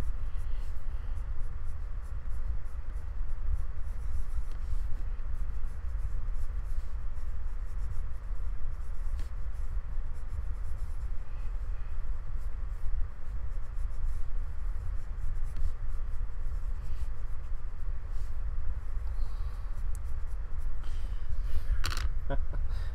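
Pencil strokes scratching steadily across paper during a live drawing session, a soft continuous rubbing texture with quiet background hum and occasional speech.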